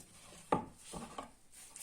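A few knife strokes thud against a wooden board, irregular and close, with faint rubbing in between, as fresh dill, parsley, green onion and garlic are chopped.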